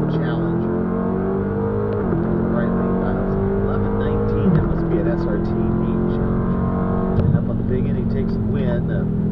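Drag racing cars at the strip, including an old white Mustang and a Challenger: loud engine drone with gear-shift drops and revving, heard steadily beneath a commentator's talk.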